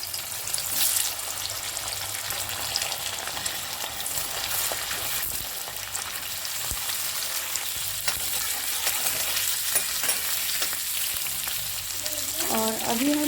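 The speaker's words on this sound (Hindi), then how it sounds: "अब हम इसमें आलू ऐड कर देंगे" Potato pieces frying in hot oil with asafoetida in a kadai make a continuous loud sizzle, with occasional stirring scrapes and a brief tonal whine near the end.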